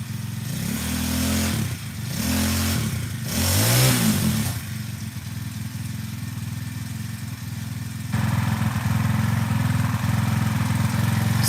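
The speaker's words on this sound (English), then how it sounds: "It's a 4-stroke with a muffler right there." A four-stroke motorbike engine with a muffler revs up and down in several surges, then settles into a steady, fairly loud idle and rises slightly near the end, with no talk.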